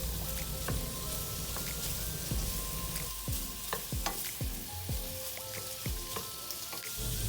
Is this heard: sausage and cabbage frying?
yes